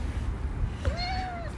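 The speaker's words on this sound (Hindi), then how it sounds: "तो जी ये हैं वो दो कैट्स जो म्याऊं म्याऊं कर रही थी" A cat gives one clear, rising-then-falling meow near the end, fairly close, over a steady low background hum; a second cat is present but only one meow stands out.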